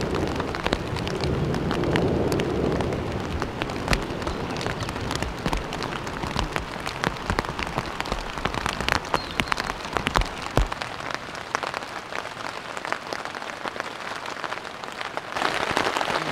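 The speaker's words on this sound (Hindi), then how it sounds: "वो बारिश बढ़ चुकी है" Heavy rain pours steadily over a deep-forest group campsite during a thunderstorm, a dense, continuous hiss of drops hitting surfaces that stays loud and close for the whole stretch, with no talking.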